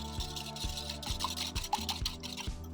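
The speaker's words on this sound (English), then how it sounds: "Got one egg, so I'm gonna whisk, beat that up" Egg and milk being whisked together in a bowl for a milk bun egg wash make a soft, steady rubbing and swishing with a rhythmic beat, faint and close, with no talk.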